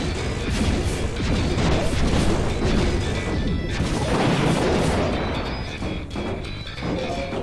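Crashing, smashing explosion effects in the strategy video game Powargrid roll on continuously, loud and dense, with a few brief dips in the barrage and no speech.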